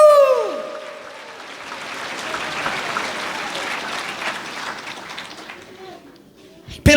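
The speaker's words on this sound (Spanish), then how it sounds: "Fuerte aplausos, iglesia" Church congregation applauding at a service in Sucre, Bolivia: a sustained wash of clapping that swells and fades over several seconds, preceded by a brief ringing tone, ending abruptly.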